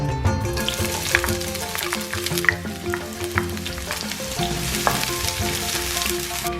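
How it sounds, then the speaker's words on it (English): Onions sizzle in hot oil in a pan, a steady frying hiss with occasional stirring clinks, heard close over background music with tonal notes throughout. "once you've added the oil to the pan, add your onions"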